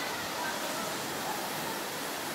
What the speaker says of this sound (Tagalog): Ito po yung Antong Falls sa Season Pangasinan.